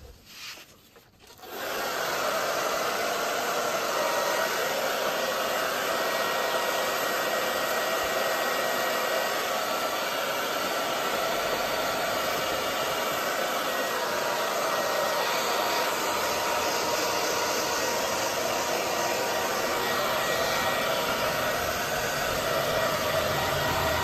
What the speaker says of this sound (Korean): 빠르게 작업을 하기 위해서 드라이기로 저는 이제 미장했던 부분들을 메꿔주도록 하겠습니다